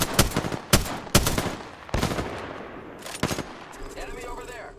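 Gunfire in a shooter video game, a run of sharp, loud shots in uneven bursts, followed by a fainter ringing, whooshing tail.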